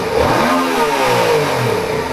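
A 2015 Yamaha FZ-07 parallel-twin motorcycle fitted with a shorty race exhaust revs loudly and close by, its pitch sweeping up toward redline and falling back in one continuous burst.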